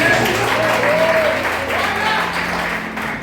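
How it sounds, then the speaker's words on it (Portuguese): Church congregation clapping and praising during a worship service, a sustained wash of applause with faint voices and a held musical tone underneath. "A igreja pode aplaudir e glorificar."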